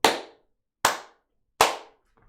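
Three sharp, separate hand claps from a streamer checking audio levels, evenly spaced and close to the microphone, each decaying quickly into silence.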